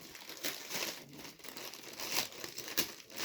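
A plastic parcel bag nested inside another bag is unpacked, giving continuous close crinkling and rustling with irregular louder crackles and tearing sounds, with no voices.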